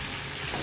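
Meat sizzles in a pan with onion, garlic and ginger, a brief, dense, steady frying hiss close up with no voices.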